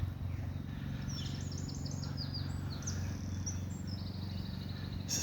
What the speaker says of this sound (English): You can hear the birds and the crows.